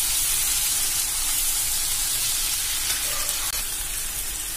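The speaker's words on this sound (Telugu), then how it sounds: "ఫైవ్ మినిట్స్ ఫ్రై చేసుకుంటే సరిపోతుందండి." Ingredients for mint chutney frying in a pan with turmeric added, giving a loud, continuous, close hissing sizzle that holds steady throughout with no talking.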